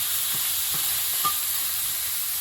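Small fish frying in hot oil in a wok, a steady bright sizzle throughout with a few soft stirring scrapes, close and alone with no voices.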